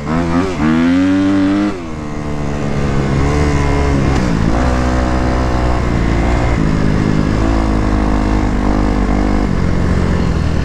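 A Kawasaki KX250X dirt bike rides through loose sand, its engine loud and close with a steady drone that rises and falls in pitch as the throttle changes, filling the whole stretch.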